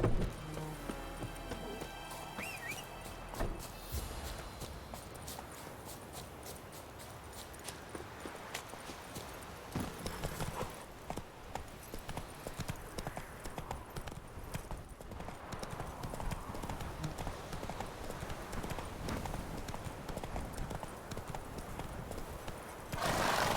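Roach, the horse in The Witcher 3, clip-clops along in a steady rapid hoofbeat rhythm for most of the stretch, with a brief whinny and some game ambience and a voice near the start.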